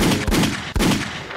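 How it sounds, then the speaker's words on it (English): A gunshot sound effect played as a drop on a podcast: two loud, booming shots roughly half a second apart, each a sharp burst that rings into a dense, sustained wash of noise. "Let me hit the gunshot, man."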